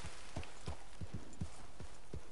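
Horse hooves pounding in Red Dead Redemption, a steady run of about ten close thudding footfalls over a constant background hiss, with no voices.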